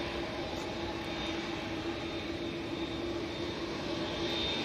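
TUI jet airliner engines on an airport taxiway, a steady broadband roar with a constant whine running throughout, fairly loud and unbroken with no talk.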